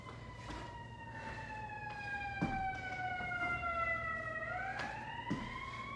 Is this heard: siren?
yes